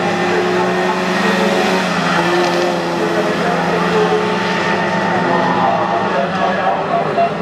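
Škoda Felicia rally car, number 139, running a stage of the 2018 Barum Czech Rally Zlín, its engine roaring steadily and loudly throughout under a continuous wash of crowd and commentary noise.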